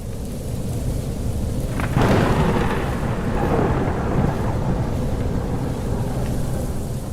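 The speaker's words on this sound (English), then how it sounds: "But the crash of thunder also brings good news: the arrival of rain." A crash of thunder rolls through the jungle about two seconds in, then rumbles and fades over steady heavy rainfall that continues throughout.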